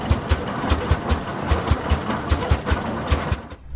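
Antique kerosene-fuelled, oil-cooled oil pull tractor engine running at a slow idle, each low thudding power beat arriving about every fifth of a second in an even chugging rhythm, close and alone.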